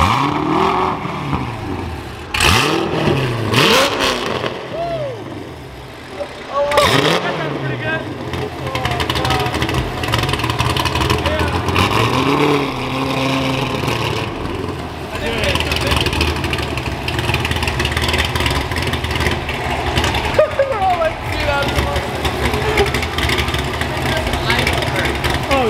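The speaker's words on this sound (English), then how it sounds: "in the Aventador, and this thing is just unbelievably loud" A Lamborghini Aventador engine revs loudly and close by in repeated rising and falling bursts that settle into a sustained roar, with voices talking under it.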